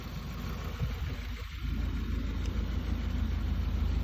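A 2019 Subaru WRX with minor exhaust work and an upgraded air intake idles steadily, a low even engine rumble up close with no talk.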